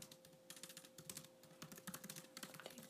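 Fast, steady tapping on a computer keyboard while Swift code is written, a quiet, close run of light clicks over a faint electrical hum, with no talk.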